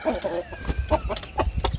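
A brooding mother hen clucks close by in a backyard, giving a rapid run of short, low clucks in an uneven rhythm.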